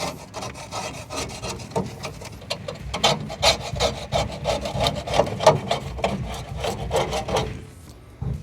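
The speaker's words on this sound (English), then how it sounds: "just going to take my plastic putty knife, just scrape off what I can" A plastic putty knife scrapes buildup from the firebox frame of a Hasty Bake Legacy grill, giving a continuous gritty rasping with repeated strokes, close and fairly loud, no voices.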